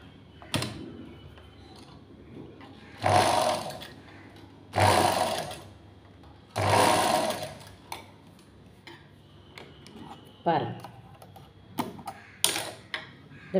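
A sewing machine stitches a folded piece of fabric closed for a kairu tie, running in several loud bursts of a few seconds each, separated by quieter pauses and light handling noises.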